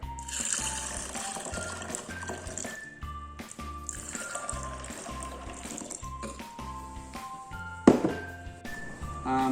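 Water is poured over seeds to soak them for a tetrazolium test, making a steady, moderately loud splashing gush with a brief louder splash near the end.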